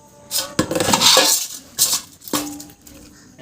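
Freshly caught desi koi and singi fish poured out of a container, a clattering, slithery rush in two or three separate bursts with short quiet gaps between, close and fairly loud.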